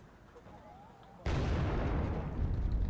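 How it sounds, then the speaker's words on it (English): In the Wargame Red Dragon video game, an F-5 jet's napalm air strike lands: after a quiet stretch, a sudden loud whooshing blast gives way to a sustained roaring, crackling burn. "we had a napalm attack from the F5"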